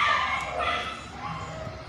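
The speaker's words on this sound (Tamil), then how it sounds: "நாய் கத்துற சவுண்டு கேட்குன்னு நினைக்கிறேன்." A dog barks and yips at a distance, the sound faint and somewhat muffled against a steady background.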